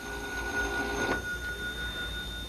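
A telephone bell rings inside a house amid comic movie chaos, a steady electronic ring lasting a couple of seconds with no speech over it.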